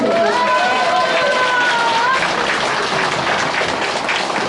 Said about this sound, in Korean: 여러분들께 큰 박수 좀 주세요.